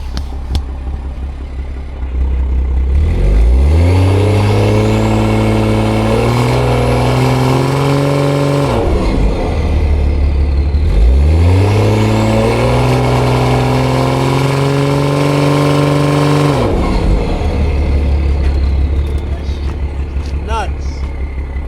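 BMW 340i with the B58 engine, heard from inside while driving: two long, loud wide-open-throttle pulls with rising intake and exhaust drone and gear shifts, each dropping back to a lower cruising hum.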